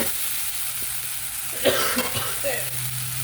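Sweet potato leaves sauté in a pan for a Kerala-style thoran, giving a soft steady sizzle with a few light stirring scrapes near the end, heard fairly close.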